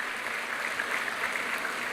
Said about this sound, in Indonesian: Tepuk tangannya lebih meriah buat Tuhan kita.